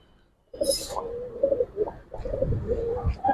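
Giribaj and silver pigeons coo close by in low, throaty repeated calls, with a brief rustle of wings or feathers near the start.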